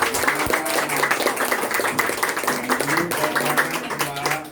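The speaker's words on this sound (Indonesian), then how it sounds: "Ya, kita tepuk tangan." An audience at a church post dedication ceremony claps together, a lively, fairly loud patter of many hands that runs throughout while voices talk and call out over it.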